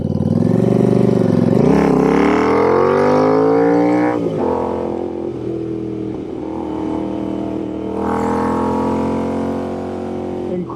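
Royal Enfield Interceptor 650 motorcycle fitted with an aftermarket intake and S&S cam, revving loudly and close by in several rising and falling bursts, with no talking over it.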